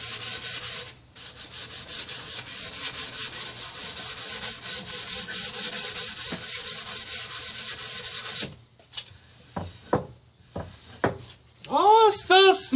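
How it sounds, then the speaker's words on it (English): Wooden pallet bow being sanded by hand with 220 grit sandpaper, rapid rhythmic back-and-forth rasping strokes close up for most of the time, then stopping, followed by scattered knocks and handling noises. "Use the 220 grit just to get those rough edges off."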